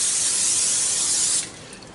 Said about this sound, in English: I'll spray this